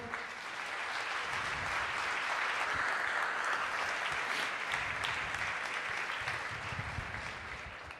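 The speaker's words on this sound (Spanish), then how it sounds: "¿Podemos dar un aplauso al Señor?" A church congregation bursts into sustained applause for the Lord during a Sunday sermon, a dense, continuous wash of many hands clapping that holds steady throughout, with no voices standing out.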